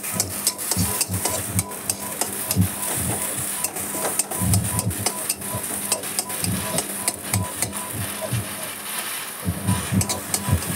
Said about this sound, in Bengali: তারপরে যে গোবিন্দভোগ চালটা একটু ভেজে নিচ্ছি, হালকা লাল লাল করে ভেজে নেব